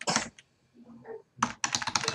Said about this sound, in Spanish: Presiona el teclado.